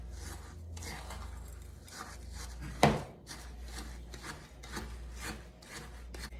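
Melted butter being stirred into a dessert crust mixture in a bowl, soft rhythmic rubbing and scraping strokes close up with one sharper knock partway through, fairly quiet and without talk.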